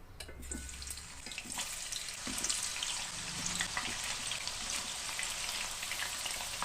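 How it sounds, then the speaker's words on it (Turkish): Potato pieces fry in about a cup of oil in a pot, giving a steady, close-up bubbling sizzle with a few soft clinks, no voices over it. "Şimdi patateslerimizi hafif bir pembeleştirelim."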